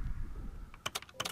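Computer keyboard keys pressed while playing a Korean indie game: a few quick, crisp clicks in a short cluster after a low, quiet hum.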